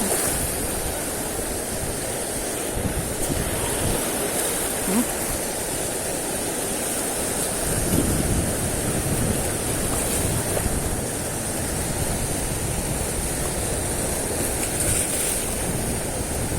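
Strong ocean waves at a fishing spot wash in a steady, continuous roar of broadband surf, loud and close, with some faint background chatter.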